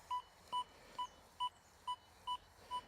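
An XP Deus 2 metal detector sounds its target tone as seven short, evenly spaced electronic beeps over about three seconds, clear and steady against faint background hiss.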